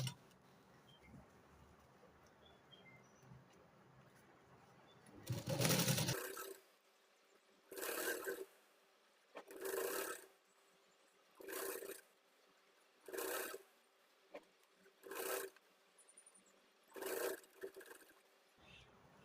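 A sewing machine stitches piping onto thick fabric in short, evenly spaced bursts of about a second each, close and clear against near silence, after one longer louder run.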